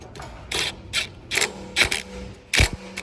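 The throttle lever on a Cub Cadet ZT1 zero-turn mower gives a series of sharp mechanical clicks and ratchet-like snaps as it is worked toward full throttle, close up and evenly spaced.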